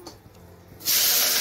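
Food frying in a pan until golden brown, cooked without garlic or onion, bursts into a loud, steady sizzling hiss after a brief quieter moment.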